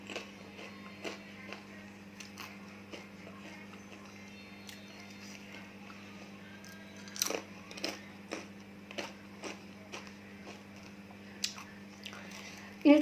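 Crunchy spicy chips bitten and chewed close to the mic in a series of sharp, irregular crackles over a low steady hum, with no talking between the bites.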